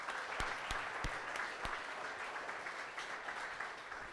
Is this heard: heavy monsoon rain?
no